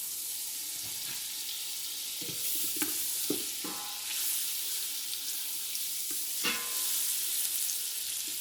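Butter melting in a preheated Instant Pot, giving a soft, quiet sizzle broken by a few scattered clinks and scrapes of a utensil against the pot.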